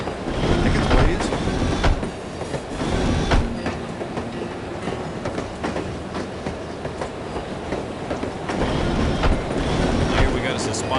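A train rumbles along in the spy game No One Lives Forever, wheels clattering in uneven bursts with a steady rolling roar and occasional metallic screeches, loud and close, while voices talk over it.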